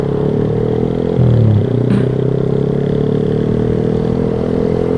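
A motorcycle fitted with a loud aftermarket racing exhaust (knalpot brong) runs close and loud with a steady, throbbing drone. It gives one brief deeper rev burst just after the first second, with a clatter.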